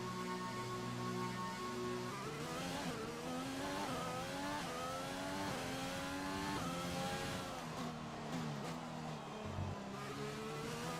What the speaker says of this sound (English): Oh, we're driving our car.